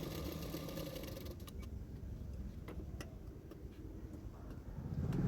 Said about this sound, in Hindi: सिलाई कर रही हूँ